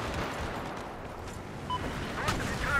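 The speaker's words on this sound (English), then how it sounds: "Oh, I think the building's collapsing!" Building collapse in Battlefield 4 on the Hainan Resort map, a dense, rumbling crumble with scattered crashes and distant gunfire, heard alone for a few seconds.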